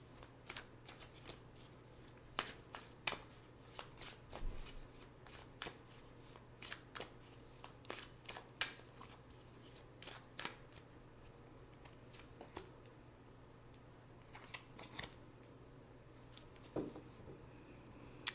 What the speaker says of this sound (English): Now let's pick two cards for guidance.